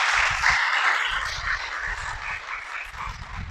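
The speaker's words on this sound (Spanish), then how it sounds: "Dale un aplauso al Creador." A congregation claps for the Creator during a church sermon, a broad steady crackle of applause with a low rumbling undertone, moderately loud and continuous without speech.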